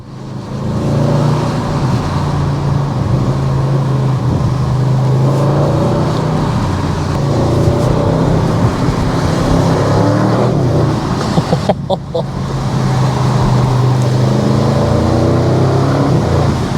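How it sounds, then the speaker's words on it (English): A 2025 Audi RS6 GT's engine roars continuously and loudly from inside, rising and settling as it accelerates, with a brief crackling dropout partway through. "There's so much angriness coming out of that exhaust."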